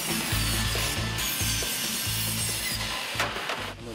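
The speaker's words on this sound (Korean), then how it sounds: "효율적인 공간 활용을 위해 신중하게 확인한 후 재단에 들어갑니다." Wood being cut with a saw during the conversion of a used bus into a camper, with steady, close, raspy rhythmic strokes and mechanical rattling.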